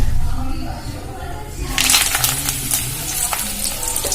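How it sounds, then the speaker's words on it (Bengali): Washed and dried curry leaves fry in hot oil, a sudden burst of crackling sizzle about halfway through that settles into a steady hiss, with a voice talking over it. "এবারে কারি পাতাগুলো ভেজে নেব"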